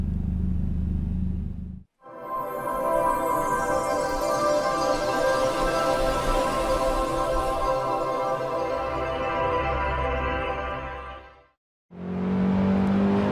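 A BMW M3 E30 racing on the Nordschleife in the Assetto Corsa video game: a loud, close engine howl with shifting revs and harmonic whine, broken by two brief near-silent gaps, with the engine picking up again at the end.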